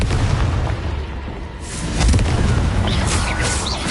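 Bombarda spell explosions in the Hogwarts Legacy video game on PS4 make a loud, sustained booming blast with deep rumbling, which swells again partway through.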